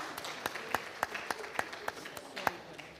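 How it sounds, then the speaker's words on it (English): Audience applause at a conference panel on sustainable media, a steady crowd clapping with sharp individual claps standing out in an uneven rhythm, moderately loud throughout. "A round of applause, please, as he makes his way up the stage."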